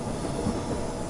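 Train arriving on the left-hand track in Train Simulator 2016 on a London route, a steady close rumble of rolling railcars with faint wheel noise, no talking.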